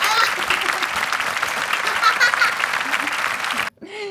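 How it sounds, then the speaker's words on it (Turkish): Lively applause rings out for a contestant in a family cooking competition, sustained clapping mixed with faint chatter and laughter, cutting off abruptly just before the end as a voice begins. "Elif Doğa'ya bir alkış."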